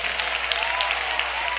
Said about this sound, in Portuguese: Palmas misturado com glória.